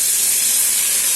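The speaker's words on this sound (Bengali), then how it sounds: "এখন গ্রেট করে রাখা কোয়াশগুলো দিয়ে দেবো।" Grated squash dropped into a hot oiled pan for a Bengali ghonto, a loud, close, broad hiss of sizzling that holds steady through a brief moment with no talk.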